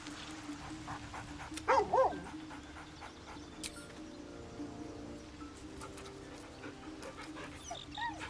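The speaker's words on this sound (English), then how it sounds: "Gotta pet the dog before I leave." A dog in the video game Baldur's Gate 3 gives two quick, sharp barks, then faint whimpers and yips follow over quiet game ambience, with soft clicks and distant sounds in the background.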